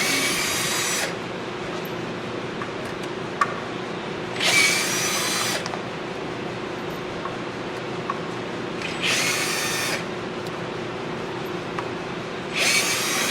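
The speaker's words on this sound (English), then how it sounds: "Measured before I put the drill bit in." Brief bursts of a power drill drilling a hole, four short whirring runs of about a second each spaced irregularly over a steady low background hum, moderately close with no talking.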